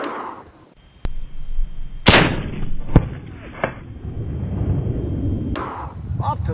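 A 9mm or .40 cal pistol with a 3-inch barrel fired at a steel plate 110 yards away, a few sharp loud shots spaced about a second apart, close, with a noisy outdoor background.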